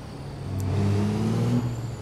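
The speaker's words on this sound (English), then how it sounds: "I love when you hit the rev limiter" A truck engine in American Truck Simulator revs up hard, climbing in pitch, then bounces against the limiter with a stuttering cutoff before easing down.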